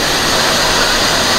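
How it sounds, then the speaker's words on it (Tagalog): Komunal waterfall pouring steadily as a loud, dense, unbroken rush of falling water filling the whole scene, close by, with no voices over it. "Waterfalls ng Komunal."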